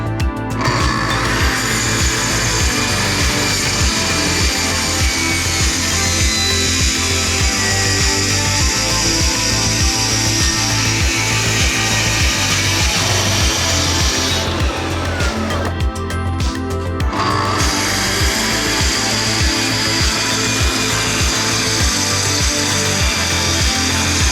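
A power saw cuts steadily through a wood slab for a long, loud stretch, its motor droning with a brief pause near the end before resuming.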